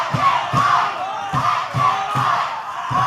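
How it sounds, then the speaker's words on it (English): Crowd at a wrestling match chanting "let them fight" in a loud, rhythmic two-beat pattern, repeated several times, with a full arena of voices shouting together. "Chanting, let them fight, let them fight."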